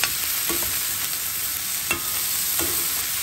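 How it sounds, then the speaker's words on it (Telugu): Cauliflower and egg mixture fries in a pan with a loud, continuous sizzle, broken by occasional scrapes and clacks of a spoon stirring it. "బాగా కలుపుకొని ఒక 5 to 10 minutes ఫ్రై చేసుకోవాలి"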